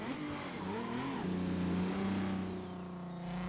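A race car engine in Assetto Corsa Competizione drones and revs with shifting pitch, climbing and then settling into a steady held tone, moderately loud and close with no voices.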